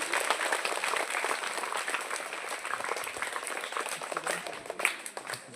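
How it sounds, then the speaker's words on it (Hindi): A crowd at a Swachh Bharat cleanliness drive event claps loudly, a steady, dense patter of many hands that continues throughout and thins slightly near the end. "उनके लिए भी एक बार जोरदार ताली।"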